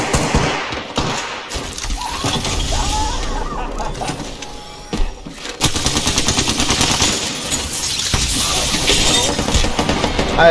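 Gunfire in the Apex Legends shooter game, with dense, rapid bursts of shots and sharp impacts crowding a busy, loud battle mix for about ten seconds, dipping briefly midway before the firing picks up again.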